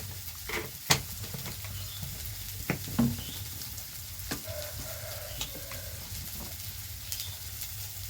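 Cabbage curry fries in a pan as Kashmiri chili powder goes in, a steady close sizzle broken by scattered clinks and scrapes of stirring, with no voices.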